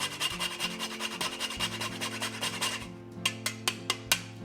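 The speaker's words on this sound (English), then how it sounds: "I love freshly grated nutmeg" Fresh whole nutmeg scrapes against a grater in quick, rhythmic rasping strokes, steady at first and then slowing into a few separate scrapes, close and fairly quiet with no talking.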